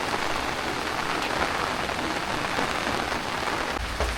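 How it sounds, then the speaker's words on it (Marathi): Steady monsoon rain pours in a Konkan village, a dense, even hiss of drops on surfaces that holds constant and close throughout with no voices. "पावसाचं आगमन झालेलं आहे मस्त कालपासून."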